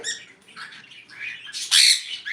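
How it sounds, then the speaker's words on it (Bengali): Cockatiels at a bird farm give a string of harsh squawks and chirps, several overlapping calls in quick succession that end in a louder, sharper screech nearby. "আমার পাশে যত ককাটেল পাখি আছে"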